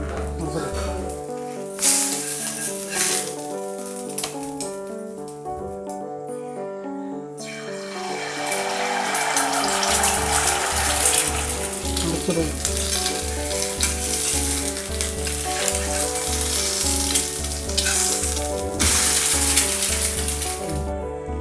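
An omelette for an egg burger fries in oil in a pan, giving a steady, loud sizzle that swells in the middle and runs on alone without talk.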